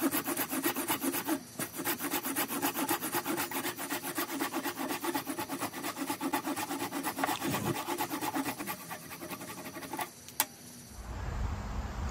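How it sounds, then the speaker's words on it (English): A tree-trimmer hand saw rasps through wooden table legs in quick, steady back-and-forth strokes, close and loud, stopping near the end. "now I'm just using this saw here, tree trimmer, to cut off the tops of the legs"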